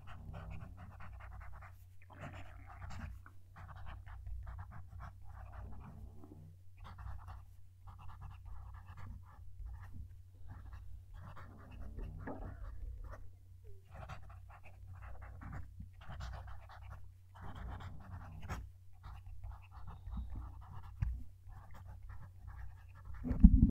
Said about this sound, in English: I'll move the mic and we'll see if we can write a sentence.